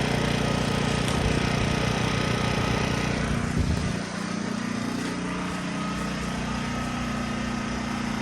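A Harbor Freight Predator 1400 portable generator engine drones steadily up close, then drops to a lower, quieter idle partway through as its RPM is throttled down, with a continuous rough hum afterward.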